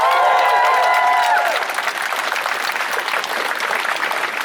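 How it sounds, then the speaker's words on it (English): A crowd at a Coventry street protest breaks into loud applause and cheering, with a few sustained shouts at first, then steady dense clapping that carries on throughout. "Give yourself a big cheer"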